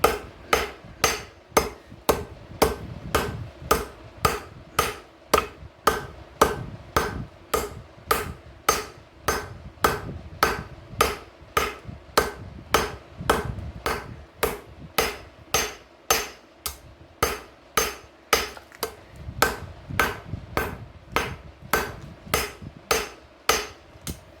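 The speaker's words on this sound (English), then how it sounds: "Now we're going to get on to forging in our tip." A hammer forges the tip of a karambit knife, ringing metallic strikes in a fast, steady rhythm, close and loud, with brief pauses between runs of blows.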